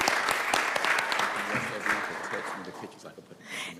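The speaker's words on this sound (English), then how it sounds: "give us one more round of applause for our campus leadership team" A live audience claps steadily for a campus leadership team at a public board meeting, dense sustained applause that thins slightly near the end with a brief swell, while voices mix in beneath the clapping.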